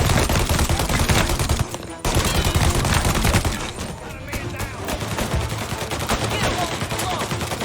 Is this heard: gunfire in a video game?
yes